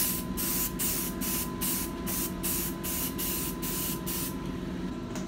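A spray gun lays a black guide coat over primer on a Jeep Grand Cherokee dashboard. Short hissing bursts repeat at an even pace, close and loud, about eight passes in a row with no talk.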